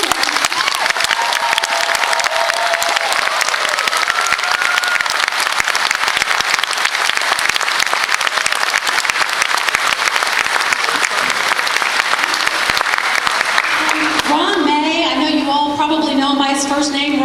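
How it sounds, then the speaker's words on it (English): A crowd at a farewell gathering applauds the staff with loud, dense, sustained clapping that fades out near the end as a voice takes over. "please, just take a moment to give them a round of applause"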